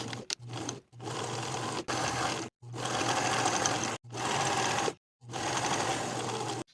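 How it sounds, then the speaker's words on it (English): A sewing machine runs fast seams down the front placket of a knit jacket, a steady close whirring hum in several long runs broken by short silent pauses. "we're going to sew from the collar seam down to the bottom of the garment"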